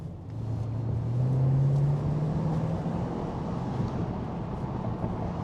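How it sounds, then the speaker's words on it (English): 2005 Mercedes E55 AMG V8 rumbles steadily, a deep low burble that rises briefly in pitch and then settles into a sustained, moderately loud drone. "Beautiful rumbling V8, can't beat it."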